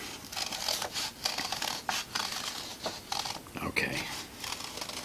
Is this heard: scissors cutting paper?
yes